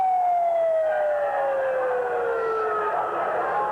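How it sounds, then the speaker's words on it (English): A loud, steady warning siren with a slowly falling pitch sounds continuously before the 2001 implosion of Three Rivers Stadium in Pittsburgh. "We had the 10-minute siren, and we've just had the immediate siren to kind of get us into the final countdown."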